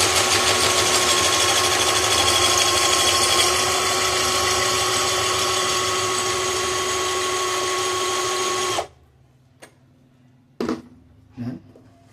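Drill boring a hole through stainless steel plate, a loud steady whining grind with metallic tonal ringing that runs continuously for about nine seconds, then stops abruptly, followed by a few short faint clicks and taps.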